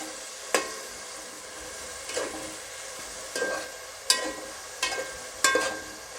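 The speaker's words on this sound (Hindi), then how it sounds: "सोया सॉस, वाइट सिरका, ये सारी चीज़ों को हम डाल के फिर से 1 मिनट हम इनको फ्राई करेंगे" Rice ingredients fry in a pan with soy sauce and white vinegar, a soft continuous sizzle punctuated by six sharp scraping stirs of a spatula spaced about a second apart, with no talking.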